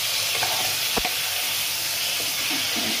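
Constant bright sizzle of a spice masala with ridge gourd and potato frying in a hot pan, close and steady, with a couple of soft stirring scrapes and no voices.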